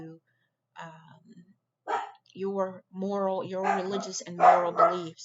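Dogs bark in the background while a man lectures on rights and beliefs, the yips surfacing faintly between and beneath his steady speech.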